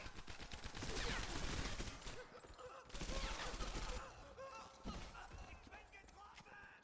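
Bursts of rapid gunfire from the World War II shooter Medal of Honor: Airborne, two dense volleys with a scattered shot after them, heard over game noise at a moderate level.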